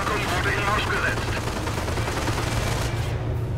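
Rapid gunfire in Company of Heroes rattles continuously in a dense, loud burst, with the shots blurring into a sustained roar throughout.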